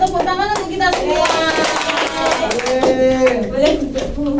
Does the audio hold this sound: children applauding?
yes